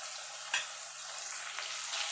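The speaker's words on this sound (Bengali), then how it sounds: "চিংড়িটা এবার হালকা করে একটুখানি ভেজে নেবো" Prawns fry lightly in oil for a spinach-and-prawn dish, giving a loud, steady hiss of sizzling broken by a couple of brief stirring scrapes, with no voices.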